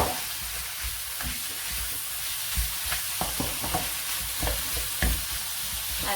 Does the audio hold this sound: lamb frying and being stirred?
yes